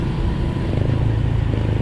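A Margamers RSX motorcycle engine, freshly serviced with new oil, revs loudly and steadily at close range, a continuous throaty drone with rising surges and no talk over it.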